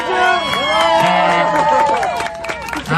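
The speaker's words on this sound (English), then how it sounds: "I want to give another round of applause to Andrew because they are amazing." A live crowd at a protest event cheers, whoops and shouts in a loud, sustained burst, with voices yelling over one another.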